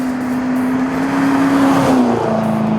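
A roughly 585-horsepower muscle car engine held at a loud, steady rev, its pitch rising slightly then dropping back near the end, close by and continuous with no talking.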